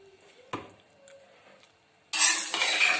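Zarda, sweet colored rice, being stirred in a pot: a sharp knock, quiet scraping, then a loud, close rush of mixing in the final second.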